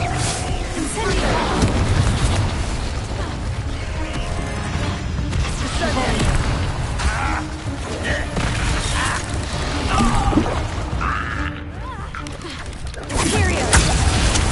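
Incendio fire spell cast in Hogwarts Legacy, heavy booming bursts and crashing impacts rolling through a dense, loud battle din, with a voice calling out over the clash.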